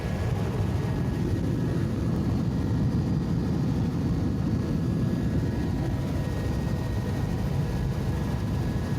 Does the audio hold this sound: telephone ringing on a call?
no